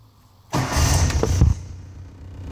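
A Kawasaki Mule 2500 utility vehicle engine cranks and catches with a short burst of starter and engine noise, then settles into a lower, quieter idle close by.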